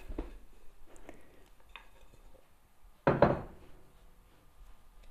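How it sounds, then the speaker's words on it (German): Dough is dropped onto a floured wooden work surface with one dull, solid thud, preceded by faint light kitchen knocks in a quiet room. "Jetzt geben wir den Teig auf eine bemehlte Arbeitsfläche."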